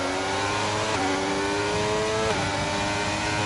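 Race cars accelerate away from the start at Bahrain, a dense wall of engine roar with rising revving tones layered on top of each other, loud and continuous with no gaps.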